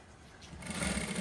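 A sewing machine stitching a shalwar, a steady close whirring hum that swells louder and denser partway through, with no talking.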